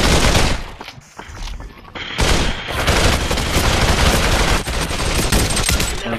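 Sustained gunfire in the VR battle royale Population: One, loud dense automatic bursts and rapid shots nearly filling the whole stretch, with a brief lull before it picks up again, no talk.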